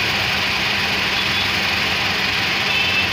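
A Maruti Celerio engine idles steadily up close, with a continuous even hum and broad rushing noise. The car has a pickup problem.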